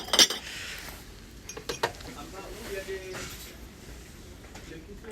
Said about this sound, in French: c'est un verre à thé en verre cannelé